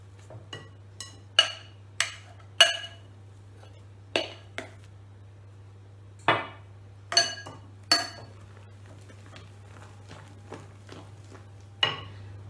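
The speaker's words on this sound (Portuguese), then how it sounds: "Agora vou misturar as claras, vou untar a forma com manteiga e polvilhá-la com farinha" Kitchen clinks and knocks while preparing a quick cake, with egg whites mixed and a tin greased with butter and dusted with flour: a dozen or so sharp, separate taps of utensil on bowl or tin, near and moderately loud over a low steady hum.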